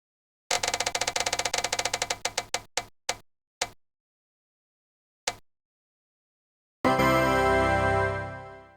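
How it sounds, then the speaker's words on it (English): A spinner wheel clicks rapidly at first, the ticks slowing and spreading out until they stop, followed after a pause by a loud bright chime-like sting that fades. "So I put them on a spinner wheel. We are going to spin"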